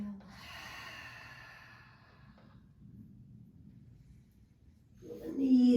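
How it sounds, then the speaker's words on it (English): A yoga practitioner breathes out through an open mouth in a long, breathy exhale lasting a couple of seconds, with quieter breathing after it and a short louder breath or rustle at the end. "Open the mouth, exhale."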